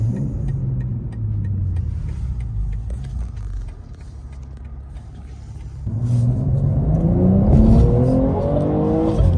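A 2022 BMW M240i engine roars and builds as it accelerates, the pitch climbing steadily toward the end, loud and close, with no voices.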